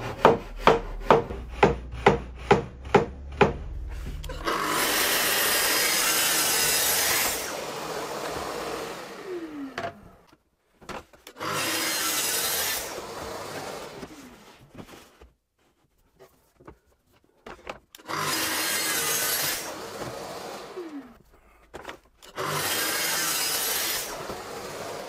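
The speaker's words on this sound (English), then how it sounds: "for now I need to get on with this cutting." A hand saw cuts wood for a small cabinet: a quick run of short strokes, then long rasping bursts in four separate sessions with quiet pauses between them, close and clear.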